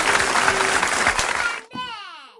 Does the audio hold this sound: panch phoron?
no